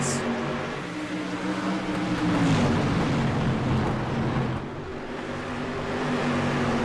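Street stock race cars at South Boston speedway roar down the straightaway side by side, a steady, loud engine drone with harmonic bands that rise and dip as they pass, continuous throughout with no talk.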